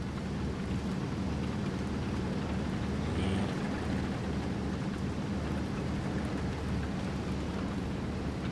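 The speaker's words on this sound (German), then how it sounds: "Oder jetzt regnet es, oder?" Steady rain hiss in the game World of Tanks with low rumbling underneath, constant and fairly loud throughout, no voices.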